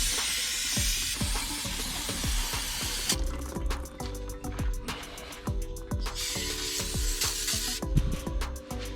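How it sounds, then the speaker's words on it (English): Brake cleaner sprayed onto the engine parts of a 2014 Dodge Ram 1500 with a 5.7L engine, a steady close hiss with short bursts and dripping, metallic ticks throughout, no talk. "Now that we've drowned the whole thing in brake cleaner"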